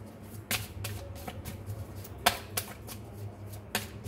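A True Love oracle card deck being shuffled close up, a series of sharp riffling snaps and soft slides spaced irregularly over a few seconds, with no talking.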